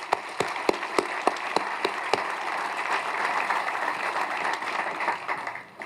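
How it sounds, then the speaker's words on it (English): Audience at a fire and lifeguard appreciation dinner applauds, beginning with a few sharp, separate claps that swell into steady, dense clapping from a crowd, continuing evenly to the end at moderate loudness with no voices. "let's give him a round of applause."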